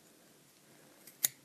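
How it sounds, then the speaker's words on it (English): Sharp pointy scissors snip once through pom pom yarn down the center, a single crisp close cut after a faint tick, in a quiet room. "So I take my scissors and I go right down the center"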